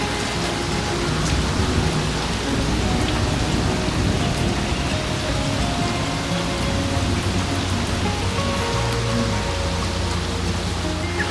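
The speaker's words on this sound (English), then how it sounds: "the nice light rain we're getting right now" Light rain falls outdoors around a garden planting area, a steady, even patter of drops continuing throughout with no speech.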